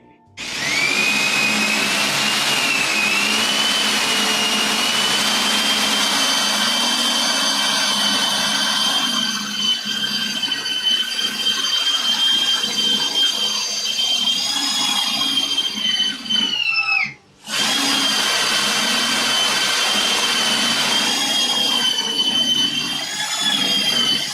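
A power drill driving into wood gives a loud, steady high-pitched motor whine, running almost continuously, briefly cutting out once before starting up again, with no talking.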